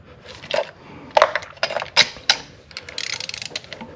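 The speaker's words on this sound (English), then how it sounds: "I suggest do like a quarter turn and one more to crush that washer good" A ratchet wrench tightening a bolt during cylinder head temperature sensor replacement on a 2010–2014 Ford Fusion, close metallic clicking strokes and scrapes in short uneven bursts, ending with a quick run of ratchet clicks.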